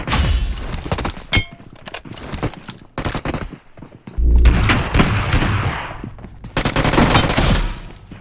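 Gunfire in a battle royale video game rattles out in repeated bursts of rapid automatic shots, loud and close, separated by brief gaps and heavier booming impacts.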